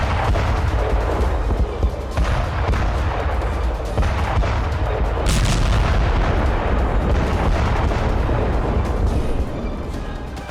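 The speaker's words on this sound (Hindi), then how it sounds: "रशियन ब्रिगेड ने यूक्रेन के खिलाफ टीओएस शॉक वेव बम से भीषण अटैक किया।" Continuous heavy artillery fire from a Russian TOS thermobaric shock-wave bomb attack against Ukrainian positions, a dense, loud roar of rumbling blasts that keeps going throughout without pause.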